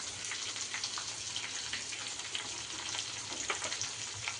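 Green chillies, ginger and garlic frying in hot oil for chicken biryani, a steady close crackling sizzle that runs evenly throughout with no voices.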